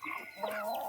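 Chickens clucking close by on a farm, a steady run of throaty, overlapping calls that fills the whole second without pause.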